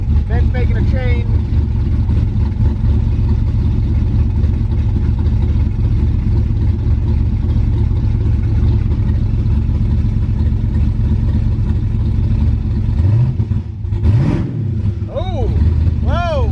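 A twin-turbo LS-swapped Mustang engine idles and revs steadily up close throughout, loud and continuous, with people talking over it and a brief rise in pitch near the end.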